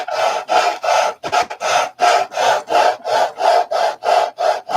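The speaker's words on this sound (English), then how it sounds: "When I'm at home, I use 36 grit sandpaper for this kind of thing, but I don't have any here, so I'm using 80." Hand sanding of wood against the grain with 80 grit sandpaper, loud close rasping strokes repeating in a steady back-and-forth rhythm, about a dozen strokes with no talking.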